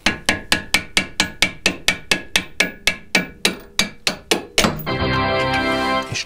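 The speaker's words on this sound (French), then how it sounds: "Ok, petit tournevis à frapper." A hammer strikes a striking screwdriver to drive out a bolt, about sixteen sharp metallic blows in a steady rhythm, close and loud, then a sustained ringing rattle of metal.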